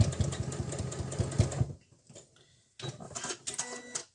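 A sewing machine runs in rapid mechanical bursts, stopping and restarting as it reverse stitches over folded fabric pleats on a face covering mask, close up with no talking.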